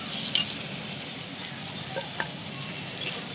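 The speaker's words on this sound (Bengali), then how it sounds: "পেঁয়াজটা লাল হয়ে এসছে এর উপরে দিয়ে দেবো গোটা জিরে কয়েকটা তেজপাতা লং আর" Whole cumin, bay leaves, cloves and cinnamon sizzle steadily in hot oil with browned onions, a continuous close frying hiss with a few faint clinks and stirring taps and no voices.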